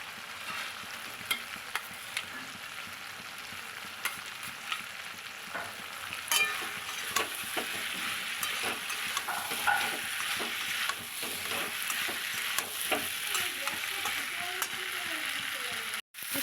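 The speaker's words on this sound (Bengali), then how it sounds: "এবার ফুলকপিগুলো দিয়ে আর একটু কষিয়ে নেব" Cauliflower pieces and green chillies fry in a pan for a koi fish curry, giving a steady close sizzle with intermittent spatula scrapes and stirring clicks. The hiss swells louder toward the end.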